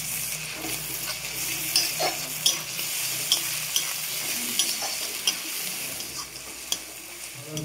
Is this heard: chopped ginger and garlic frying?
yes